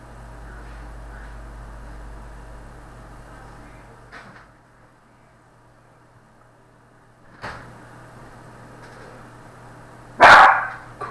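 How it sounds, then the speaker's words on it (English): A small dog gives one sharp, loud bark near the end, after a couple of fainter thumps over a quiet indoor background. "My little dog is a noisy bugger at times"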